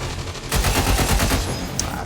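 Rapid bursts of automatic gunfire in the turn-based strategy game XCOM 2, a dense rattling volley that breaks out after a brief lead-in and continues at moderate level with no talk.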